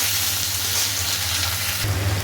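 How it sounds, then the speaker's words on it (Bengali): Tomatoes frying in hot oil with whole cumin, bay leaf, dried chilli, fennel and fenugreek for a winter-vegetable khichuri, giving a steady, close, fairly loud sizzle throughout with a brief stronger burst near the end. "তারপরে দেবো টমেটো, একটুখানি ভাজা হোক এটা।"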